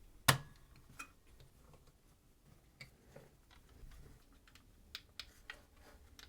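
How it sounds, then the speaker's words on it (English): Buttons on a 1986 Sony CDP-35 CD player give crisp, close clicks, one sharper press first and then a sparse, irregular series of lighter clicks in near silence. "Yeah, those buttons all feel good and clicky."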